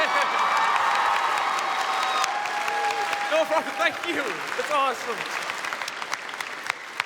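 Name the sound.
audience clapping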